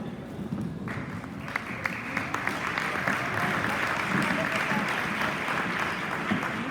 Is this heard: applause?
yes